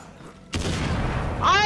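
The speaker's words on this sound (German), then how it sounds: "Hier explodiert gerade alles überall" An explosion erupts in Far Cry 6 after brief near-silence, a sudden loud blast followed by rumbling debris and a ringing tone as it fades.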